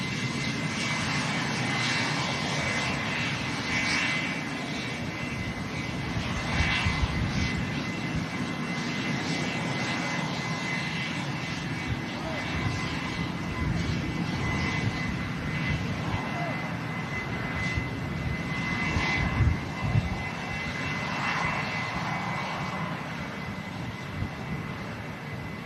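Turkish airliner landing at Manchester Airport, a continuous engine roar with surges of rumble as it touches down and rolls out, while a person talks intermittently over it.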